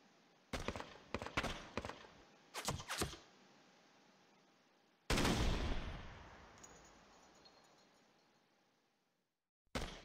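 Defensive gunfire in the wargame Panzer Campaigns Stalingrad: several short bursts of rapid shots, then one loud blast that fades out slowly, with a final sharp report at the end.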